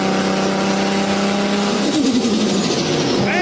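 A Nissan Skyline R34 engine revs hard and continuously, a loud, close, droning race-car wail with a rising pitch sweep near the end.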